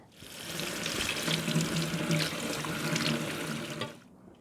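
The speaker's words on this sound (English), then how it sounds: "I rinsed off the seeds in the colander" Steady running tap water splashes over squash seeds held in a colander in a kitchen sink, a continuous close rinse lasting about four seconds before cutting off.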